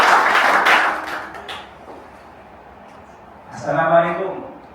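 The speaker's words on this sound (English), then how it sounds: "Ladies and gentlemen, please give a warm round of applause for Azul and Grace." Audience at an indoor event clapping loudly in a short burst at the start, fading into quiet room murmur, then a voice begins speaking over a microphone.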